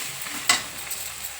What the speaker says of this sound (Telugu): బొక్కలు మంచిగా నూనెలో వేగినాయి కదా